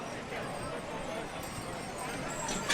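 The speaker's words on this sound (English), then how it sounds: "Yeah, they're not crazy about the red carpet. They're slipping on it." Horses in a Christmas parade in Kinston, 2019, clopping and slipping on a red carpet, faint irregular hoof scuffs under a crowd's murmur and people talking nearby.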